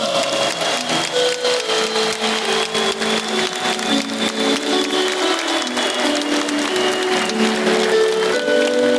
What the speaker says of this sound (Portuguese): Uma salva de palmas para o milagre da missão.